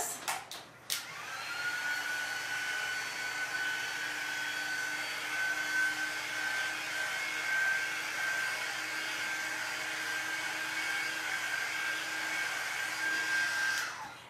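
A hair dryer blows steadily and close for about thirteen seconds, drying a freshly painted craft piece, with a high whine and broad airy rush that start abruptly and cut off near the end.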